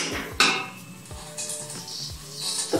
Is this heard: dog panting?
no